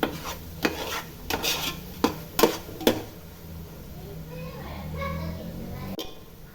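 Spoon scraping and clinking against a pan as biryani masala is stirred and sautéed over a low flame, several sharp metallic knocks early, then a gentle sizzle, with a voice in the background.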